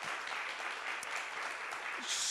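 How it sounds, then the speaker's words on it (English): Dense applause from a crowd at a chamber of commerce luncheon, steady and continuous throughout. "Round of applause for her, please."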